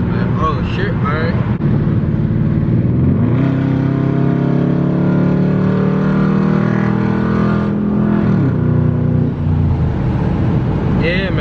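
An SRT8 Dodge Charger's V8 winds up hard under full-throttle pulls in traffic, a loud rising engine roar heard from inside the car, then easing off, with someone talking over it.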